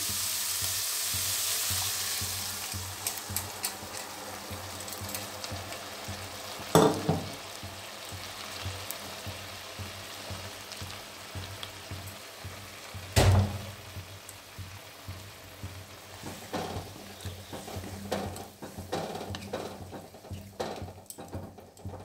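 Boiled mixed vegetable moong dal sizzling as hot tempering hits it, a loud crackling burst that settles into steady frying with occasional stirring clatters and sharp knocks.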